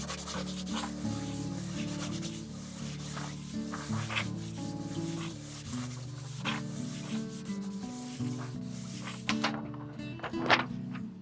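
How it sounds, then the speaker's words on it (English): A rub-on transfer is burnished onto painted wood for a decorated stair riser. Steady rubbing and scraping strokes continue throughout, over a constant tonal background. "Clean transfer. And then burnish it in."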